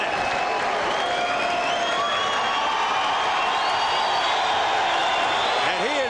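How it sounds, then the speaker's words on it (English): A Las Vegas boxing crowd cheering and applauding Chris Byrd after his fight with David Tua, a sustained roar of clapping and shouts at steady loudness with whistles rising over it. "And he is being saluted by this crowd."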